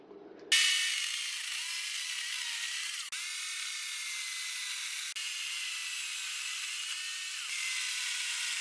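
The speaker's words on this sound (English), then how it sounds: "at the next stage you'll see me is just with the chainsaw knocking a few bits off" A chainsaw bites into a yew log to knock off rough bits. It starts abruptly, then holds a thin, steady, hissing whine with brief dips, and no one speaks.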